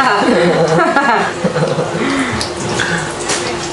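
Water runs and splashes onto hair at a barber shop in Giza, Egypt, a steady close wash under chatter and laughter from people nearby.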